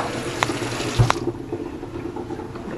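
A cup of water pours into a cooking pot, a short splashing gush with a couple of sharp clinks at the start, then settling into a softer steady trickle.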